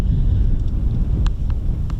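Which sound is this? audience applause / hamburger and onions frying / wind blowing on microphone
wind blowing on microphone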